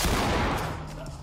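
Full-auto gunfire in the tactical shooter Ready or Not, a dense continuous burst of rapid shots, loud and close, with no talk.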